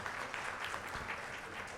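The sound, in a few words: audience applause welcoming a guest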